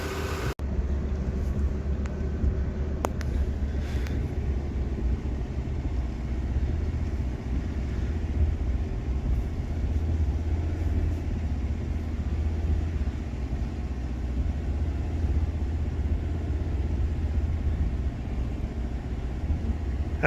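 Steady low road rumble inside a car driving straight while the rear end swings around in a slow drift, a continuous droning engine and tyre noise with no voices.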